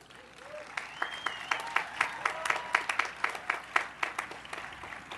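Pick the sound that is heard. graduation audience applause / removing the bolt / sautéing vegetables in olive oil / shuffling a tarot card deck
graduation audience applause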